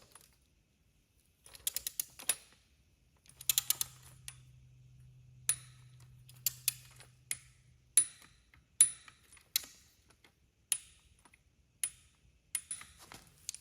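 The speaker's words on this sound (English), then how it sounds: "So now we can torque it down to 22 foot-pounds." Torque wrench tightening rocker arm bolts to spec on a 6.0 LS engine during a trunnion kit install, giving a series of sharp metallic clicks and ticks, mostly spaced singly with a few quick clusters, close and moderately quiet.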